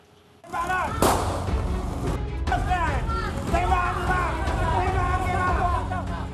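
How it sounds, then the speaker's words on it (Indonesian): A single sharp warning gunshot fired by police cracks out early, followed by the noisy babble of a crowd brawl and shouting voices over a low background rumble. "Polisi melepaskan tembakan peringatan untuk membubarkan tawuran antar warga"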